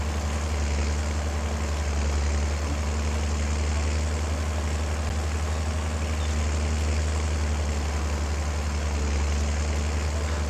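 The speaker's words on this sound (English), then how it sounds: "So we've got our new tractor." A tractor engine in the Farming Simulator 22 video game idles with a steady low drone that holds evenly and continuously throughout, with no talk over it.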